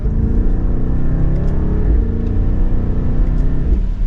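A 2024 BMW X6 M60i engine drones and rises steadily under light throttle in second gear, a low rumbling hum that builds smoothly with no voices.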